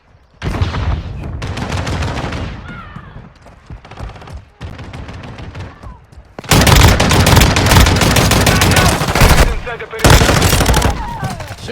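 Automatic gunfire in a shooter game played on an iPad 10th generation comes in loud, rapid bursts of rattling shots separated by brief pauses, with game voices mixed in.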